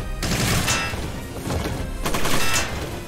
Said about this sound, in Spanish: Venga, va, disparo.